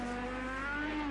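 An IndyCar race car in a racing video game on the Indianapolis road course locks up its brakes, giving a sustained, steady tonal tire squeal over engine drone, loud and continuous for about a second.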